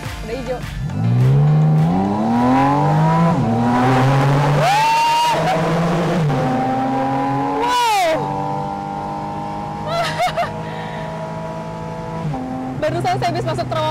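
A Porsche 718 Spyder RS roadster with a racing engine accelerates through a tunnel, its engine rising through the gears with sharp shifts and a booming echo. Brief bursts of talk come through near the end.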